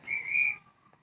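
A train guard's whistle gives a single short, shrill blast that cuts off quickly, heard clearly and alone.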